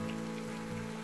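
Fried sweet potato jalebi goes into boiling sugar syrup with a soft, steady bubbling and sizzling hiss, brief and quiet with no voices.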